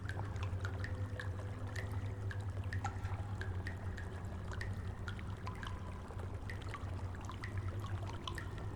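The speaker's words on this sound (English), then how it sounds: "I hear running water." Sewer water in the IT game's town of Derry streams continuously with a gurgling trickle and frequent sharp drips over a low droning hum. It stays even and close throughout, with no voices.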